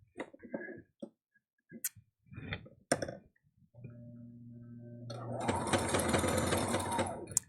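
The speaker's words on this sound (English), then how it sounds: "These shoulder seams can be a little thick, so you might have to help your machine." A sewing machine stitches through thick T-shirt shoulder seams, whirring loudly and continuously for about two seconds near the end, after soft scattered handling clicks and a brief low hum.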